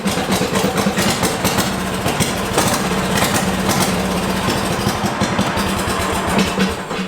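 A 420cc go-kart engine runs steadily and loudly from start to finish, a continuous close-up mechanical drone with a throbbing low-end pulse.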